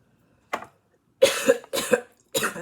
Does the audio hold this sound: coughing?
yes